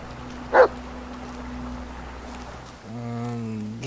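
A dog in the horror video game Blair Witch gives one short, sharp bark, then a quiet pause over low ambient drone, followed by a brief whimpering whine.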